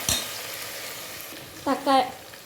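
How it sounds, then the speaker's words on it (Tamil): Tomatoes and onions sautéing in a pan make a soft, steady sizzle, with a few brief clinks of a spoon against the pan near the start and toward the end. "தக்காளியும் வெங்காயம் நல்லா வதங்கிடுச்சு"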